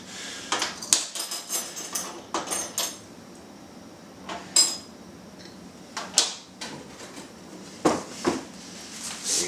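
Small metal spoons of four different shapes are handled and set down, giving scattered light clinks and taps in irregular bursts, close by and fairly quiet.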